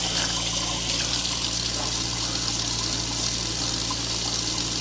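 Water runs steadily into a container in a sewage-affected setting, a constant rushing and splashing flow that stays loud and unbroken throughout with no talking.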